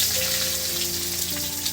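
Chopped onions hit hot oil with black cumin in a pan, giving a steady, close, full-bodied sizzle and crackle that holds evenly throughout with no talking.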